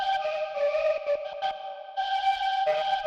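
A sustained synth melody with a warm, gently saturated tube distortion from the Waves Lil Tube plugin, its bright tones shifting between a few held notes.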